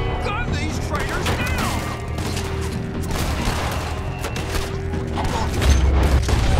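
A gunfight at a factory in Red Dead Redemption 2 brings a continuous barrage of gunshots and heavy booms, loud and dense, with voices shouting amid the shooting.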